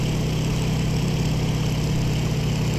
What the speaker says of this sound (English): Let me rev up a little bit